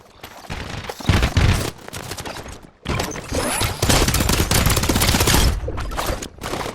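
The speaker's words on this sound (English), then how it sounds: "now with that turret, I was able to do a bunch of damage to one of the two other people" Rapid turret gunfire in Fortnite Chapter 5 zero build, with dense automatic bursts rattling loudly, a short break, then a longer sustained barrage with mechanical clatter.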